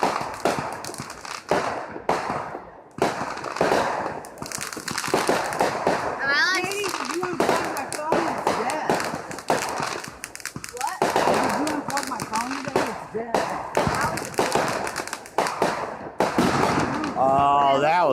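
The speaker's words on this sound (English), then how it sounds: "We're doing fireworks right now." Fireworks burst repeatedly in a loud, dense crackling sequence at a fireworks show, heard close by under frequent excited talk from children and adults.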